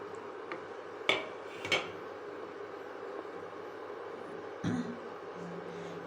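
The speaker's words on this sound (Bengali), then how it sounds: "টক দইটা দেওয়ার পরে আমি ভেজে রাখা আলুগুলোকে এর মধ্যে দিয়ে দিচ্ছি।" Fried potatoes go into a cooking pan of chhana kofta curry with sour yogurt, giving a few sharp metallic clinks and scrapes of a utensil against the pan over a low steady kitchen hiss.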